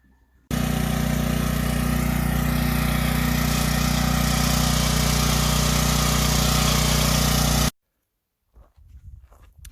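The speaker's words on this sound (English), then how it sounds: "This is the generator that runs the well pump." Generator that powers a well pump at an off-grid mountain lot, running loud and steady with a constant low engine drone for about seven seconds before cutting off abruptly, leaving near silence and faint shuffling.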